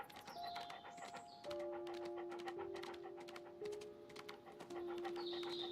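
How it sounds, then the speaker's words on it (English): Dog in the Sherlock Holmes: Crimes & Punishments video game panting steadily and rhythmically up close, with game ambience and faint tonal hums behind it. "this dog is really slow though"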